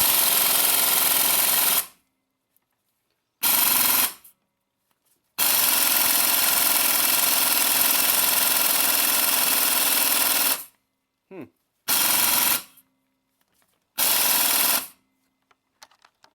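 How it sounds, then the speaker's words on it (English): Pneumatic air impact gun hammering at a stuck bolt during a Subaru engine teardown, loud continuous rattling bursts of a few seconds each separated by silences, with a couple of shorter blips near the end. "The air gun obviously did not have enough oomph"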